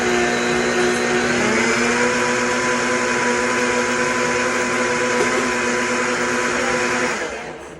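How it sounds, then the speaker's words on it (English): A blender whirs steadily at high speed for several seconds, blending salad dressing, loud and close, then spins down near the end. "We are going to blend it one more time and taste it one more time."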